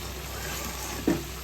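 Red amaranth greens frying in a pan, a steady soft sizzle throughout with one brief louder scrape or stir near the end.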